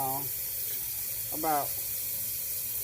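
Water runs from a kitchen tap into a cooking pot as a steady, close hiss that lasts throughout, with a couple of brief vocal sounds over it.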